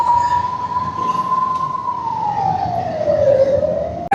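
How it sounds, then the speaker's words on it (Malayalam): An ambulance siren on the Aroor–Thuravoor stretch of the NH66 highway, one loud steady wail that holds its pitch and then sweeps lower as the vehicle passes close by, over constant road and wind rumble. "when it comes to an ambulance"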